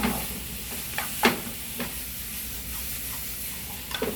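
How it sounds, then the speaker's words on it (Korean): Onions sautéing in a pan for a tomato seafood spaghetti, a soft, low sizzle broken by a few sharp scrapes and stirs of a utensil, close by, with no speech. "양파는 1분 정도 볶아주세요."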